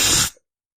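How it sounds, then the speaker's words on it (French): One person gives a brief, forceful nose blow, a breathy burst of hiss lasting about a third of a second, close and alone, then silence. "Je me mouche."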